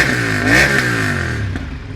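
A superbike with a dB killer fitted revs hard: a loud, close engine note climbs in pitch, peaks, then drops back to a rumbling idle, all within two seconds.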